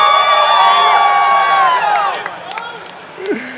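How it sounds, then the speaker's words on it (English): At a League of Legends all-star match at SXSW, West Coast fans scream and cheer loudly, a bright burst of high shouts and whoops that fades over a few seconds, ending with a brief voice. "let me hear some screams for the Bay Life"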